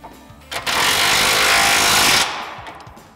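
Impact wrench tightening the upper track bar mounting bolt on a Jeep Wrangler JK with a 21 mm socket during a suspension lift install, one loud sustained burst of hammering rattle lasting about a second and a half, close up.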